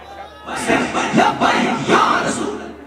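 Large crowd at a Tehreek Labbaik Pakistan religious gathering roaring a religious-political slogan in unison, loud and massed, with two or three swelling shouted waves over a few seconds.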